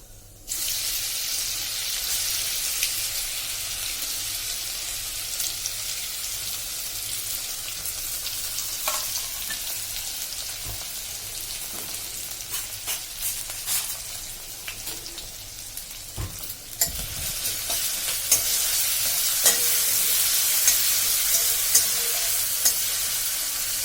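Green chili and ginger paste frying in hot oil in a home kitchen, a steady loud sizzle and hiss that keeps going and swells slightly toward the end, with occasional stirring scrapes and no speech.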